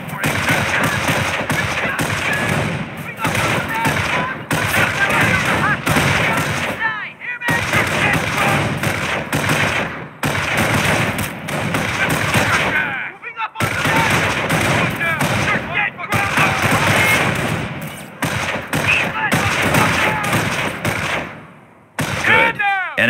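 Dense infantry gunfire in the Company of Heroes PC strategy game as squads attack an enemy patrol: loud, sustained rifle and machine-gun bursts in long stretches with brief gaps, and game voices calling out over the shooting.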